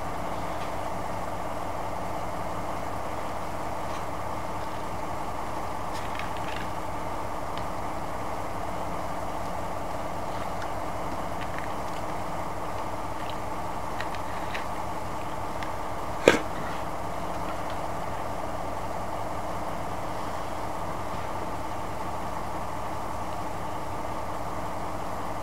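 A steady Class 218 diesel locomotive engine drone in Train Simulator 2015 hums throughout, low and continuous, with a single sharp click partway through; no talking.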